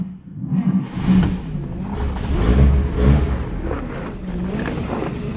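A 1951 Chevrolet Deluxe with push-button starter cranking and firing up, the engine catching with a few uneven surges then settling into a rumbling run, close by with no talking.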